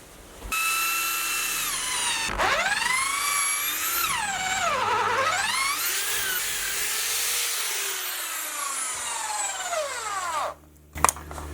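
A power drill whines up and down in pitch as it bores into wood, running almost continuously for about ten seconds before stopping with a clunk.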